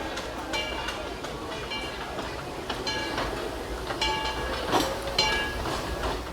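Disneyland Railroad train rolling toward Fantasyland Station, a steady rumble of wheels on track with faint rhythmic clicks and metallic clinks, voices murmuring faintly in the background.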